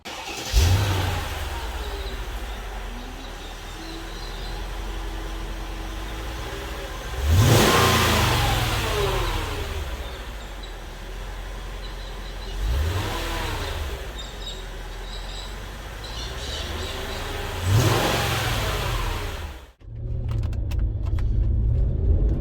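A Mercedes ML55 SUV engine cranks to life, then revs hard in repeated surges, roaring up and settling back between bursts, close and loud throughout.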